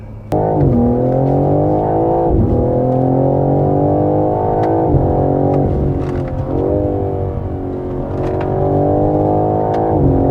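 A 2022 BMW M4 Competition Convertible xDrive accelerating up a hill, its engine rising in pitch through several gears with brief dips at each shift, loud and close.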